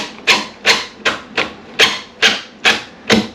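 Seven evenly spaced sharp bursts, loud and close, as a square-drive trim head screw is driven into a wooden cabinet during installation, each burst rising and falling in under half a second.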